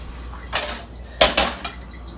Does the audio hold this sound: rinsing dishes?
yes